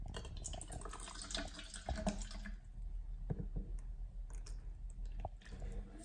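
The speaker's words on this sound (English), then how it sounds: "Let's pour some water in." Spring water from a store-bought bottle pours into a container, a steady close splashing trickle running for several seconds with a few small drips and knocks, no talking.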